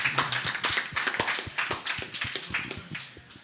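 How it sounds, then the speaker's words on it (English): Audience at a Bali blockchain and Web3 panel discussion clapping, a quick patter of many separate hand claps from a modest crowd, fairly close and sustained without cheering or voices. "give that a clap"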